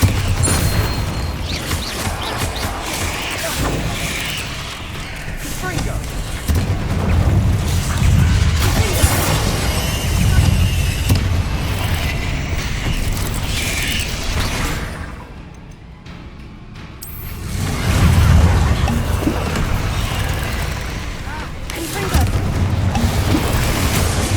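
Bombarda spell explosions in Hogwarts Legacy on PS5 Pro, loud booming blasts and crashing debris over a busy game soundscape, with a brief quieter lull before another heavy rumbling burst.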